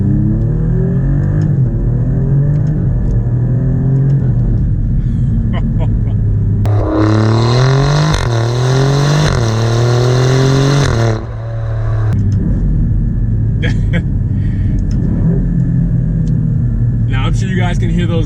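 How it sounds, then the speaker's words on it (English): An Alfa Romeo Giulia Quadrifoglio on a road drive gives a loud engine rev with sharp rising and falling downshift blips midway, over a steady cabin rumble while someone talks nearby. "now I'm sure you guys can hear those blips from downshifting quite well"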